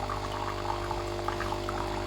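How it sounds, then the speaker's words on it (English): A Nespresso Essenza Mini runs its lungo cycle with no pod, the pump's steady hum under a continuous stream of water pouring into a cup, close and even throughout, with no talk. "I'm going to use a lungo button to pour the water in with no pod"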